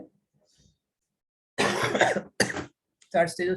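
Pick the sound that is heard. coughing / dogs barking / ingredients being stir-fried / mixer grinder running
coughing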